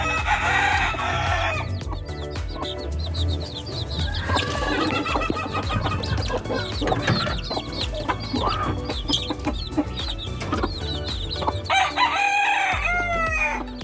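Young Rhode Island Red chicks about three weeks old, kept as backyard chickens with some white ones, cheep and peep steadily and fairly loud throughout, with busy overlapping chirps and a rooster-like call mixed in, close by.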